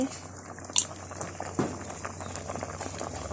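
Thai bamboo shoot curry boils in a pot with a steady low bubbling, a couple of brief splashes or clinks standing out, and faint talk in the background.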